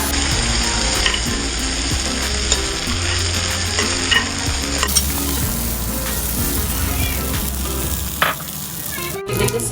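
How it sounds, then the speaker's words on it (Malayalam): Thattu dosa batter hitting a hot pan and sizzling steadily and close up, with a soft scrape of stirring and no talk. "നമ്മുടെ പാൻ ചൂടായിരിപ്പുണ്ട്,"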